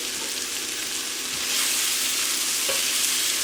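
Pollock, green beans and tomatoes sizzle in a pan with chili lime sauce while being stirred. A steady, loud frying hiss holds throughout and swells slightly halfway through.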